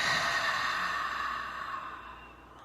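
A single long, soft exhale after a held breath during meditation, close and quiet, breathy and gradually fading over a couple of seconds with no talk.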